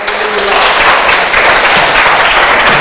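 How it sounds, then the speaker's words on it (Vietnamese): A church congregation claps together during a Vietnamese sermon. The applause is loud, dense and steady, filling the whole stretch as a close, sustained wash. "Hãy vỗ tay cảm tạ đi Chúa Trời."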